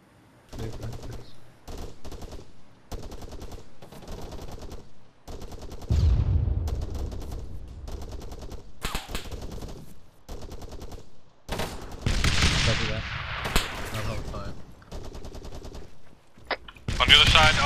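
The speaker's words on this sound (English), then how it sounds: "I'll try firing then." Gunfire in the Arma 3 military video game: repeated bursts of rapid automatic weapon fire, loud and close, broken by short pauses, with heavier sharp blasts and crackling shots near the end.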